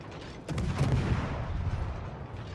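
Destroyer guns firing in World of Warships, a Gearing in ranked play: a heavy booming report under a continuous low rumble, with a second muffled blast shortly after.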